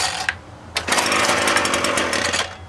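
A weed whacker's small two-stroke engine is started by pull cord: a short sputter, a pause, then it catches and revs loud and raspy, running steadily close by.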